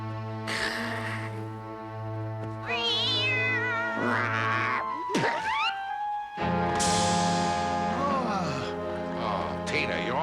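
A cartoon cat yowls and meows in long, wavering cries over a sustained musical score, loud and close, with a few voices in between.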